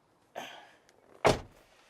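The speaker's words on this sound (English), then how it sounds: "Let me go ahead and close the door." A 2006 Rolls Royce Phantom's car door swings and then shuts with a single solid, muffled thud, heard close up in a quiet cabin.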